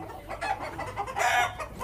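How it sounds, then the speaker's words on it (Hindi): Plymouth Rock rooster and hens clucking continuously at close range, a busy overlapping run of throaty clucks and short calls with no talking. "बहुत ही प्यारे ये मुर्गे मुर्गी हैं"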